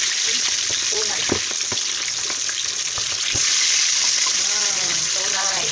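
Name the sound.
pork belly frying in oil for lechon kawali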